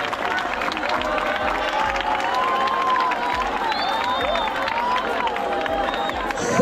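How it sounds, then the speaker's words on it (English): Audience applause and cheering at a school reunion gathering fill the space steadily and loudly from start to end, a dense crowd wash with voices and shouts mixed through it. "Give a round of applause for the Secretary General of the Washington D.C."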